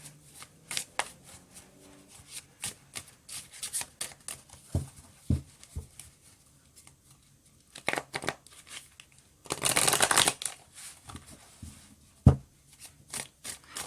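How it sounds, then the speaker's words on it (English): Oracle cards are shuffled up close in a series of crisp riffles and slaps, with soft handling rustles between them and one longer, louder burst of shuffling near the end. "Let me pick up my oracle cards for this."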